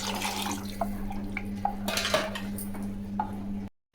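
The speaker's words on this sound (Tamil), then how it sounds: "ஒரு டம்ளர் தண்ணி சேர்த்துக்கலாம்." Kitchen sounds while water goes into a pot of ground masala curry for idli kuzhambu: metal clinks and a clatter of vessels over a steady low hum, ending in abrupt silence.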